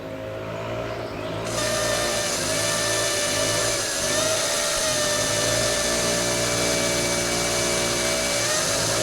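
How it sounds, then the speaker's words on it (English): A power drill spins up and runs steadily with a high, whining motor tone, loud and close, continuous after a brief start. "Since I'm drilling holes,"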